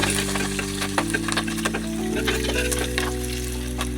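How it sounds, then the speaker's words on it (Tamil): Onions and curry leaves sautéing in an oil-filled pan for a South Indian veg kurma, with a steady close sizzle and scraping stirs throughout, no voices. "இப்போ கருவேப்பிலை போட்டுக்கலாம். நல்லா வதக்கி விட்டுக்கணும்."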